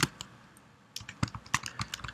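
Keys on a computer keyboard click in scattered bursts: one clack, a pause, then a quicker irregular run of individual keystrokes, close and fairly quiet.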